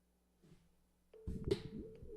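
Telephone dialing while calling a real estate lead: a low dial tone, then a short burst of key tones as the number is entered, quiet and close.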